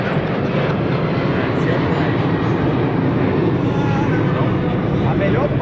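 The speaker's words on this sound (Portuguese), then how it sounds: "avião passou" An airplane passing overhead makes a loud, steady engine roar that fills the whole stretch, with people's voices mixed in beneath it.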